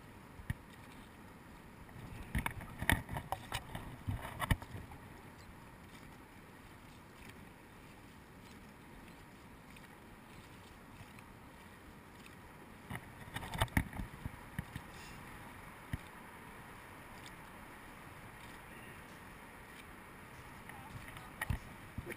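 Dragon boat paddlers on their first day of training stroke through the water, with faint splashes and rhythmic paddle strikes coming in bursts against a quiet, breezy outdoor background, with a few voices in between.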